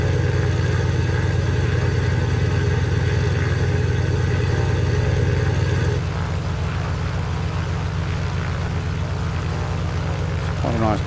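A Wedell Williams Model 44 racing plane in Microsoft Flight Simulator 2020 makes a loud, continuous engine drone that shifts slightly in tone partway through, with a person talking over it.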